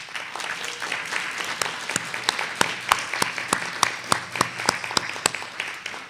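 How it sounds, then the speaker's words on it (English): An audience at an awards event applauds Sharon and her team, a dense, steady round of clapping from many hands with some individual claps standing out, sustained for several seconds. "give a big round of applause to Sharon and"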